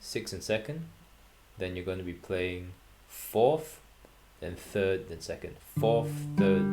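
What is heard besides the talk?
No distinct noise like a dog, phone or traffic.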